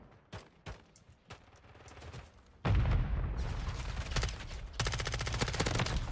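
Pistol fire in Modern Warfare 3: a few sharp, separate cracks at first, then a loud burst of rapid overlapping gunfire and blasts that fills the second half.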